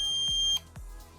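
A steady high-pitched electronic buzzer tone from a basic circuit board sounds, then cuts off midway, followed by a couple of low clicks and the soft hum of a small LED fan.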